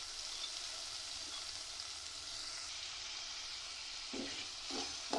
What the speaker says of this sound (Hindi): ऑयल के अंदर मैंने चिकन के पीस और बॉईल की हुई वेजिटेबल्स डाल दूँगी